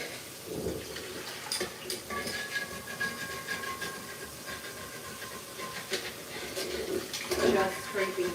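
Running tap water hisses steadily as a pan is washed up at a kitchen sink, close by, with occasional clinks and knocks of cookware under the stream.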